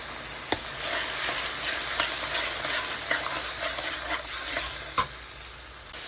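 Ground spices with coriander leaves, chili powder and turmeric stirred and fried in a pan, a steady close sizzle with scraping stir strokes and a few sharp utensil knocks throughout, no talking.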